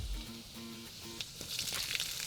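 Minced garlic and ginger sizzle in a hot pan for Ma Po Tofu; a steady close crackle builds and grows brighter toward the end, with a soft tonal backing at the start.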